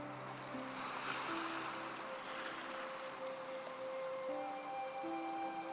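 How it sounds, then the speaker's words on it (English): Soft ocean waves wash and surge continuously at a low level, blended with gentle sustained tones of calm background music. "Allow the sound of the waves to soothe your mind,"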